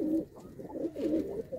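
Breeder pigeons in a loft of about 250 birds, some sitting on eggs, coo in low rolling phrases close by, several overlapping calls with no talk.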